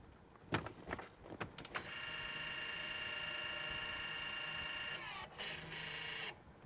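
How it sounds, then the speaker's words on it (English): An electric parking brake motor winds the caliper pistons back out, starting with a few clicks and knocks before a steady, whirring motor hum that runs for several seconds, briefly dips, resumes and then cuts off. "this time it's actually winding the pistons back out so they're in contact"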